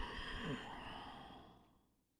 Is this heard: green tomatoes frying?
no